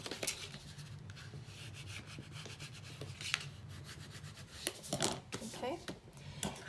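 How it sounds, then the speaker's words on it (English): Contact paper tape is pressed and rubbed down firmly with repeated soft scraping and rubbing strokes, close and fairly quiet, with a few sharper taps. "Push that tape down really well."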